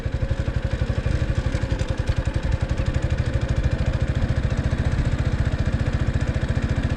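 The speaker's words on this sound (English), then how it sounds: "So I'm letting the clutch out a little bit, and the bike is starting to move on its own" A motorcycle engine chugs steadily at low revs on an incline as first gear engages and the clutch is let out, its close, even pulsing beat running unbroken throughout.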